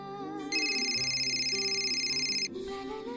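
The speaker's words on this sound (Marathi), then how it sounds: "विक्रांतचा फोन आहे, घेऊ." A phone rings with a steady electronic ringtone tone lasting about two seconds over a soft background melody.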